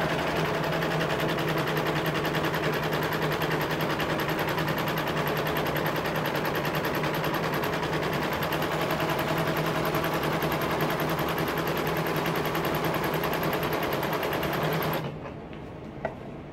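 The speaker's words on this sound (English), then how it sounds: "I'm serging in the last one" A serger overlocker runs continuously and loudly while stitching a fabric fairy skirt seam, giving a fast, even mechanical whir that lasts about fifteen seconds before stopping abruptly.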